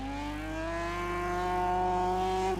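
A carburettor rally car engine at the 1985 Toshiba Rally Sprint revs hard and climbs steadily in pitch, a loud, sustained, close-up whine.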